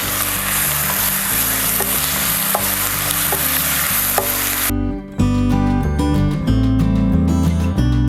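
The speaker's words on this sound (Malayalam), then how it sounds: "ഇഞ്ചിയൊക്കെ ഒരുമാതിരി വഴന്നിട്ടുണ്ട്" Ginger garlic paste and onions sautéing in a pan for a Kerala-style pork dish, a dense loud sizzle with faint stirring taps, partly masked by steady background music.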